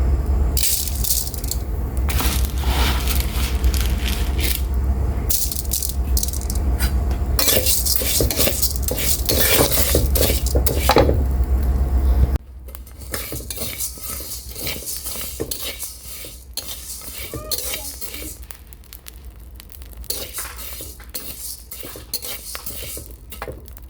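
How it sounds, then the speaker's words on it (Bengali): Dry rice grains stirred and roasted in a metal wok over a gas flame until puffed, a steady loud rattling scrape of grains and utensil against the pan for half the clip, then quieter intermittent scraping. "চালগুলো দেখেন কত সুন্দর ভাজা হয়েছে একদম পুরো মুড়ির মতো হয়ে গেছে"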